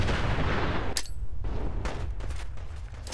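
Heavy gunfire from a firefight with raiders in Fallout 4, a dense loud barrage of overlapping shots and booms, followed by a few distinct sharp reports that fade into a lingering echo.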